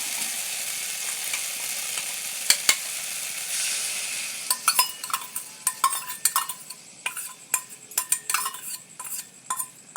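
Spice masala paste for a soji kochu (taro) curry sizzles and fries in a pan, a steady hiss at first, then joined by repeated scraping and clinking strokes of a spatula as it is sautéed.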